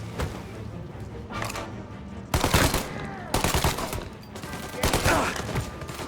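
Gunfire in the Mafia video game, bursts of shots ringing out in clusters over a busy, echoing game soundscape, loud and close with brief lulls between volleys.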